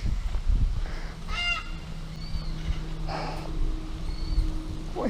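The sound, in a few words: birds calling, fowl or geese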